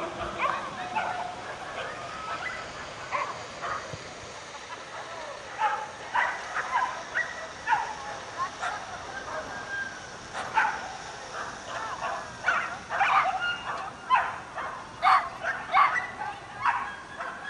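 Young whippet-mix dogs at a racing event in Lednice, yipping, barking and whining excitedly before a run, a steady stream of short bursts over a crowd backdrop, with a voice announcing over a loudspeaker.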